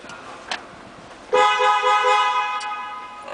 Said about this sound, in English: Okay, and also your parking sensors will activate.